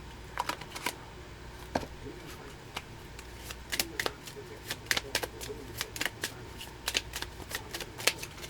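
Tarot cards are shuffled by hand close up, a string of quick crisp riffles and soft slaps arriving in irregular bursts, with no voices over them.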